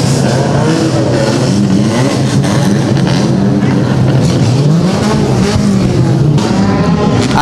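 Rally kart engines race through Ibarreta at a round of the APRAKART rally championship, revving hard with a constant loud roar and pitch swells as the machines pass close. A commentator's voice is faintly heard under the engines.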